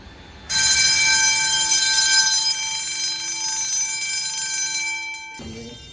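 A fire alarm bell at an elementary school kicks in abruptly and rings loud and continuous, a bright sustained metallic clang that holds for several seconds before cutting off near the end, with no talk over it.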